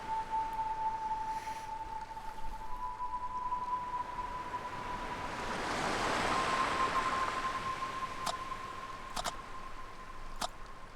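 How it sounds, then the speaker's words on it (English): Ocean waves near a lighthouse make a soft, wide wash that swells and recedes slowly, with a thin steady tone running beneath and a few faint clicks. "The sound of the waves has a unique quality to it."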